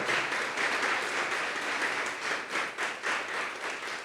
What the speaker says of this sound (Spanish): Así que démosles un aplauso a los de alabanza.